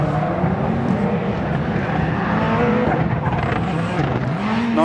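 Volkswagen Beetle rallycross car at a RallyX round at Tierp Arena, Sweden, its engine droning loud and steady with rising and falling pitch throughout, close and continuous with no talk.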